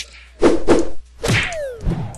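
Loud swooshing flap effects from the Flappy Bird mobile game: two quick punchy whooshes close together, then a longer sweeping swish with a falling tone and a final thump, close and harsh.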